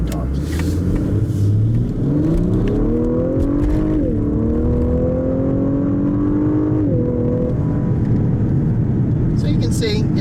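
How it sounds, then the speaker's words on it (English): A 2019 Lexus LS 500 F Sport accelerates hard in Sport Plus mode, engine note rising steadily in pitch through the gears with a brief dip at a shift, loud and close from inside the cabin. "So I'll do an acceleration now in the Sport Plus mode"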